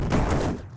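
A dense burst of explosions from exploding bullets in the game Downwell (modded), a rumbling, crackling barrage that fades out near the end.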